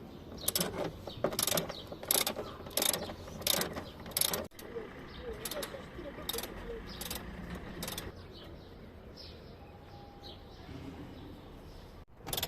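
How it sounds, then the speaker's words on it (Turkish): A socket ratchet backs out 13 mm seat screws inside a Suzuki Carry mini camper van: rapid, steady ratcheting clicks close up for several seconds, then quieter handling noise with faint background sounds. "Bu vidaları sökerek koltuğumuzu komple koltuğumuzu komple boşaltacağız."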